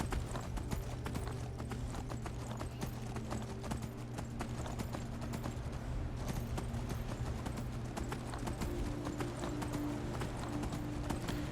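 Horse hooves clip-clop steadily and close up in a fantasy dragon-slayer video game, a continuous rhythmic trot over ambient game sound with no talk.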